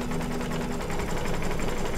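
An embroidery sewing machine stitching background fill on a zombie applique runs continuously with a fast, even mechanical chatter, fairly quiet and steady throughout.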